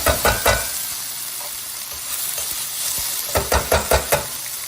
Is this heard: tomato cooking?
yes